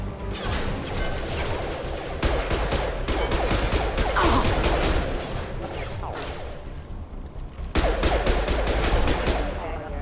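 Dense bursts of game gunfire from a Mass Effect 2 firefight against security mechs, rapid automatic volleys and impacts filling the mix nearly nonstop, with brief lulls and some crashing debris.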